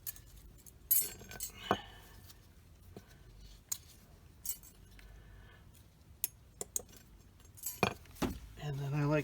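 Metal brake pad clips are pulled off the rear brakes of a 2017 Lexus RX350, making scattered light clinks and jangles, some sharp metallic ticks and scrapes, with quiet workshop background throughout.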